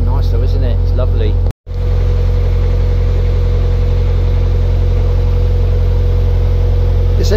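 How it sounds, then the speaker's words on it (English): A narrowboat engine runs at 1400 RPM on the River Ouse near Naburn lock, a loud, steady low hum and drone with a brief dropout early on, while someone talks over it. "This engine seems to love that 1400 RPM. It purrs away, look."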